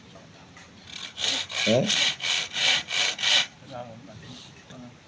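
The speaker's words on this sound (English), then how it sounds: "So when you do the handsaw, it's really important." A handsaw cuts through bamboo in a run of about six steady, rhythmic rasping strokes, close and fairly loud, with a brief spoken word before the sawing starts.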